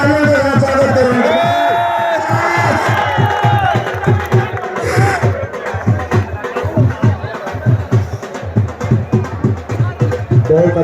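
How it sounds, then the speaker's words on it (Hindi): A crowd gathered at a village wrestling dangal in Kuthera, Himachal Pradesh, cheers and claps as the match proceeds, with loud shouts and whoops over a rhythmic, pulsing roar that grows choppier toward the end while a voice talks over it. "बहुत अच्छे तालियों के साथ स्वागत करेंगे"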